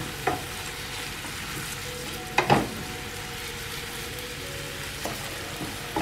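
Onions caramelizing in a frying pan, a soft, steady sizzle with a few sharp stirring scrapes and clacks of a utensil against the pan.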